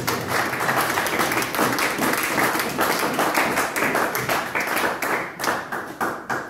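A church congregation applauds steadily and loudly at a Christian service, dense clapping sustained throughout, then breaking into rhythmic, pulsing bursts that fade toward the end.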